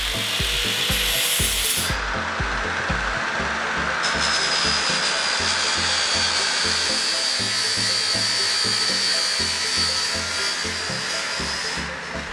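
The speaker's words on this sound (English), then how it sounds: "Let's get to cleaning up these welds." A power tool grinds and rubs steadily across metal welds on a cross kart frame, loud and close with a continuous rasping drone and short shifts in pitch, no talking.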